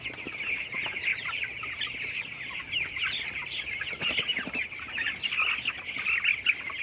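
Chickens on a farm cluck steadily while eating, a busy chorus of overlapping mid-pitched clucks and calls with occasional sharper squawks and rustling, continuous and moderately close.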